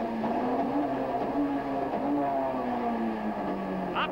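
Onboard a ProDrive Works touring race car in 1989 British Touring Car Championship racing, the engine note climbing and dropping through gear changes, a continuous strained whine close to the microphone.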